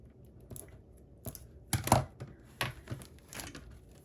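Scissors cut through craft decoration material in a few close, crisp snips and crunches, scattered irregularly over a quiet background with no talking.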